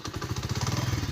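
A motorcycle engine chugs in a steady, fast pulsing rhythm, close and moderately loud, in a village in Punjab, Pakistan.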